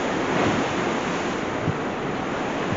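Ocean waves from the balcony of an MSC cruise ship make a steady, rushing wash with no break, mixed with gusts of wind buffeting the microphone. No one speaks.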